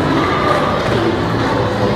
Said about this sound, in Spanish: Dale, un fuerte aplauso a los chicos.